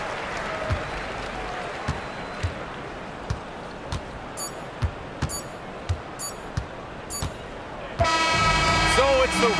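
A virtual arena crowd in the NBA 2K26 basketball game roars with sustained cheering that swells loudly near the end, after scattered sneaker squeaks and horn-like toots, with a commentator talking over it.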